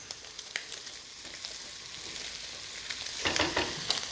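Mushrooms sizzle in a hot frying pan, a close, steady crackle broken by a few sharp stirring clicks, growing louder and busier toward the end.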